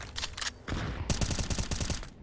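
Rapid automatic gunfire in a professional Counter-Strike match on the Vertigo map at IEM Dallas 2022, a dense stuttering burst of shots after brief earlier pops, loud and close in the game audio.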